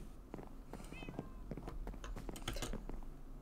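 A cat in the Minecraft video game gives a short meow, followed by soft chewing-like clicks and small game sounds, all faint and quiet.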